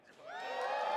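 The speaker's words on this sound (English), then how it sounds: "Can we get a cheer from the crowd?" A crowd at a Pokémon TCG regional championship in Las Vegas rises into a cheer, voices swelling from quiet to a sustained, fairly distant roar over about a second.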